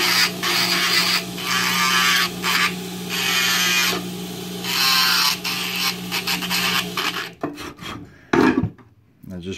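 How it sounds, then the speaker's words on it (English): A hand tool scrapes and rasps across old denture acrylic to roughen it, giving steady close-up grinding strokes in several bursts with short pauses, then breaking into choppier scratches near the end. "I'm going to rough this area up, because you want the new acrylic that you're adding to bond to the old acrylic"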